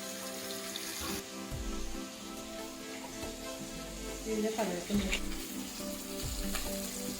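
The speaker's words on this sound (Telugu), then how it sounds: "మొత్తం ఫ్రై అయిపోయింది ఫిష్ పీసెస్." Fish pieces fry in hot oil with a continuous crackling sizzle. A few scrapes and clinks of a utensil rise briefly above it near the middle, and a low hum runs underneath.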